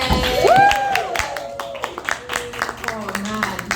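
An audience at a comedy night claps for a comedian who has just finished a set. The patter of applause is steady and moderate, and a host speaks over it through the clip.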